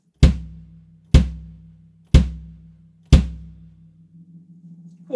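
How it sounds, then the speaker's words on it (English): Four solitary kick drum thumps, evenly spaced about a second apart, each a deep punchy hit with a short ringing decay. "So the kick drum will sound something like this."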